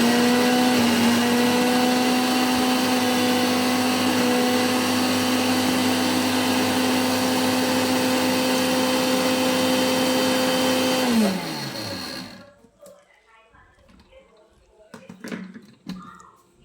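A mixer grinder whirs loudly and steadily as it grinds mango chutney, then switches off and its motor whines down after about eleven seconds, followed by faint clinks and handling sounds.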